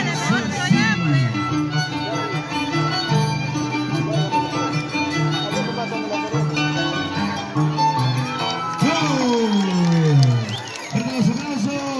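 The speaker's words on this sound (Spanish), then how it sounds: "Los aplausos." Crowd applause and cheering at an outdoor scissors dance event in Tuco, Huancavelica, with loud, dense clapping and shouting throughout, swelling again near the end alongside a festive background.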